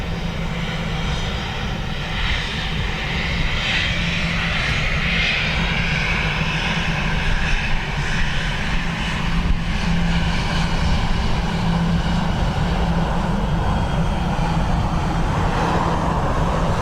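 Aircraft landing on runway 2 left at Dublin Airport in crosswind conditions, a loud, continuous engine roar sustained throughout with a broad, steady rushing tone and no talk.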